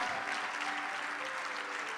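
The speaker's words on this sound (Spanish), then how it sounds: "Fuerte ese aplauso." Sustained applause from a church congregation fills the space, dense and steady throughout, with no speech over it.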